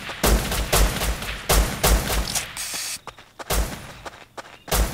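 Shotgun covering fire during a base raid in Rust; a series of loud, separate blasts in an irregular rhythm, some spaced apart and some in quick pairs, with brief quiet gaps between them.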